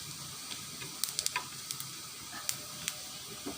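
Cumin hits onions and chillies frying in oil, a faint low sizzle scattered with small sharp pops and a few light clicks of a utensil.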